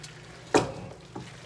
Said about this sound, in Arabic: حركها بحال هكا، نبقى نحرك فيها باش تحل ليا باش ما تكورش